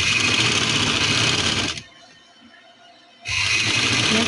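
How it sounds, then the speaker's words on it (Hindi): A sewing machine stitches lace onto the V-shaped neckline of a printed suit, running loud and steady, pausing for over a second, then resuming at full speed. "इसको मैं इस तरह से इसके ऊपर सिलाई लगा लूँगी"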